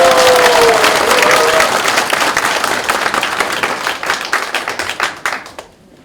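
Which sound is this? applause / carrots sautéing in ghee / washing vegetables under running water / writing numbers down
applause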